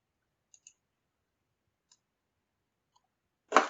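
A few faint, separate mouse clicks spaced across a quiet stretch while choosing File and then Save As, followed by a louder burst of noise at the very end.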